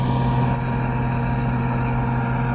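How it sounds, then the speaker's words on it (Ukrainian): A tractor with a farm trailer at harvest, its engine running in a steady low idle drone close by, with no voices. "приїхав трактором з прицепом."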